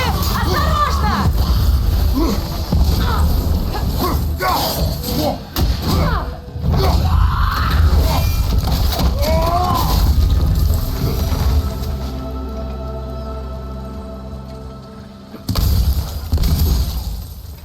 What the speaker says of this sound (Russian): Будет взрыв! Осторожно!